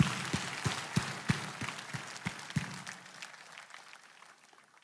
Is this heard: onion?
no